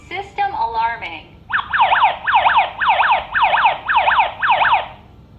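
A KERUI home security alarm siren wails loud and close, a rapid repeating rising-and-falling electronic sweep that follows a brief synthetic voice announcement.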